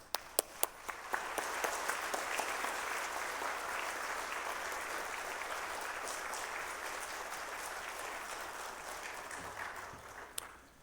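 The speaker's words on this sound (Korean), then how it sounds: "나오실 때 뜨거운 박수로 환영하겠습니다." Church congregation at a Wednesday evening service in Hwagok-dong, Seoul, giving a warm round of applause to welcome a family seminar speaker: dense, sustained clapping swells after a few sharp opening claps and holds steady for about ten seconds, with no talk over it.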